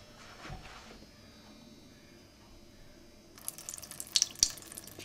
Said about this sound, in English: We're just going to pour that water off.